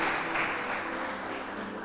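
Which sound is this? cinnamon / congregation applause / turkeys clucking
congregation applause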